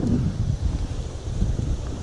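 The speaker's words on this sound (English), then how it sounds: "it's so windy" Gusty wind blowing outdoors beside a pond, buffeting the microphone with a steady low roar that swells and dips throughout, with no voices.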